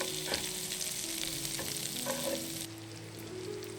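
Vegetable oil with a small piece of butter sizzles and crackles steadily in a hot frying pan on a stove, a close, continuous frying hiss with occasional pops and faint stirring sounds.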